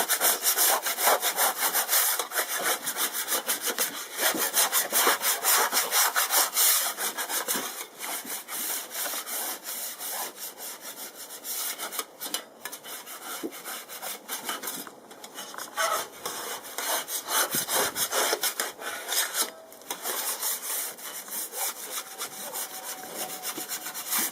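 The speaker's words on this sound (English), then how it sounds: "So just take it on the outside on the ground and just scrape everything off that you can." A wooden bee box is scraped clean of old wax and wood remnants outdoors on the ground, producing loud, continuous rasping strokes with brief pauses between passes.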